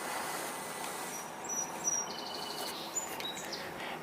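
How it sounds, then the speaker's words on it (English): A song sparrow singing outdoors on a summer tour, a few thin high chirps and short phrases, faint and distant over a steady outdoor background hiss. "that was a song sparrow that we just heard"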